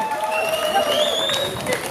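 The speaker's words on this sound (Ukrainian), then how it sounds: "Бурхливі оплески для них." Wedding guests clap during a reception contest, a short burst of applause mixed with an MC's voice and music playing underneath.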